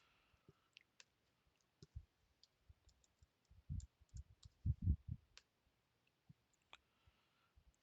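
A computer mouse gives a scatter of sharp, close clicks, sparse at first and then a denser cluster of heavier taps in the middle, with no talking.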